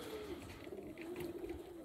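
Pigeons shut in a loft in Elbląg in winter give low, continuous cooing, a soft rolling drone close at hand over steady background noise.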